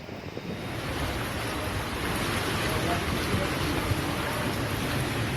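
Heavy rain driven by strong wind in Depok, West Java, a dense continuous roar of rushing water and gusting air that stays loud and steady throughout.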